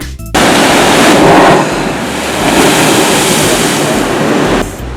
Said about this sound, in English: As waves crash onto this narrow shelf of lava, water is forced under the lava shelf and up through a small opening